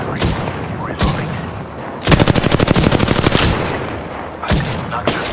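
Gunfire in the video game Apex Legends: a few scattered shots, then a fast, loud, sustained automatic burst of about a second and a half, with more isolated shots after.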